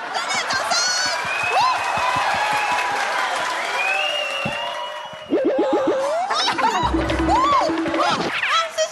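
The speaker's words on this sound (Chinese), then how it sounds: "哦，热烈掌声！" Audience applause breaks out during a school variety show performance, a steady clapping wash under ongoing talk and laughter, growing denser and louder in the second half.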